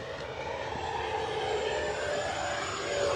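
An FMS SU-27 model jet with twin 70mm electric ducted fans at full throttle, a steady, loud whooshing roar that rises slightly in intensity as it passes.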